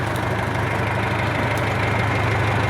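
A YuMZ tractor engine idling in a weedy field after a failed soybean crop, a loud steady low diesel rumble with a faint knocking vibration and no breaks.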